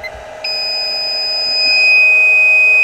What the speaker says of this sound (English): Pardon the beep.